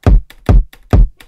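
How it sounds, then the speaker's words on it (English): Three punchy kick drum hits, evenly spaced with a deep low thump and a short bright click at each attack, loud and dry with nothing else playing. "we got the kick, which sounds like this."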